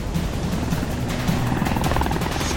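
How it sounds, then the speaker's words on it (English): A C-130 Hercules flies alongside a small plane over the Pacific, a loud steady propeller and engine drone filling the whole moment without a break. "who flew beside him in a C-130 Hercules helicopter"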